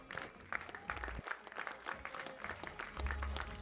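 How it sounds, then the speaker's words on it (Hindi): An audience at a film event applauds in welcome as the producers come on stage, a steady wash of clapping with faint voices underneath. "जोरदार तालियों के साथ warm welcome for our producers."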